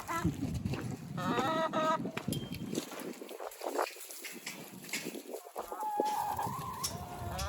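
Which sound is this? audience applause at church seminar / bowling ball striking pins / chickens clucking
chickens clucking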